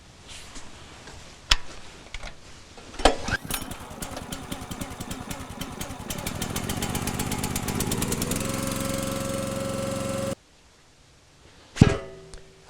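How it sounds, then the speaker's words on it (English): The 300cc Raven petrol engine of a RuggedMade log splitter is pulled to a start, then runs with a rapid chugging putter that grows steadier and louder before cutting off abruptly, followed by clunks. "The 537 comes with a reliable, easy starting, and fuel-efficient 300cc Raven engine."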